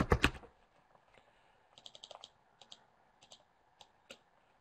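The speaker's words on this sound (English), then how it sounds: "Let me just type some text here." Typing on a computer keyboard, close and fairly quiet: a loud burst of clatter at the start, then sparse clusters of crisp key clicks with gaps between them.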